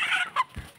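Pet chickens cluck briefly while pecking at corn kernels laid out in front of them, two short close clucks in quick succession with a soft low thump after.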